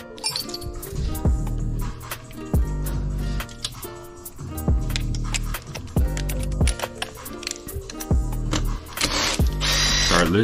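A socket wrench loosens spark plugs on a Yamaha 1.8l engine, with rhythmic ratcheting clicks and metallic clinks repeating in a steady pattern over a busy, fairly loud background.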